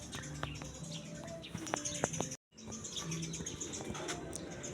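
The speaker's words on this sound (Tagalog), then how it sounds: "ngayon papakain muna natin yung mga kalapati" Pigeons being fed chirp and coo amid scattered flutters and light pattering, a busy mix of close bird sounds with a brief dropout midway, no speech.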